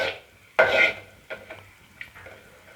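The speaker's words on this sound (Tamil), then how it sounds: "இப்போ நம்ம முந்திரியை சேர்த்து வறுத்து எடுத்துப்போம்." A spoon stirs cashews in a hot pan on low gas, with one sharp clatter of metal at the start, then softer scraping taps and a faint sizzle underneath.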